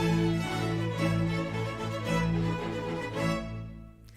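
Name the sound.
orchestral string section playing: violin, viola, cello, bass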